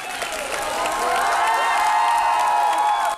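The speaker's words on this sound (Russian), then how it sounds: "Маэстро кинематографии молодежь со всего мира приветствовала бурными овациями" A youth audience from around the world gives director Vladimir Menshov a stormy ovation at a festival: dense, sustained applause and cheering that swells after the first second and holds loud until the end.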